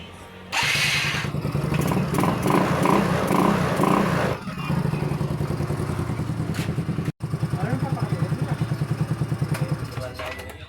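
A Mio Sporty scooter is started with its push starter and runs at a close, steady idle with a short dropout partway through, while people talk nearby.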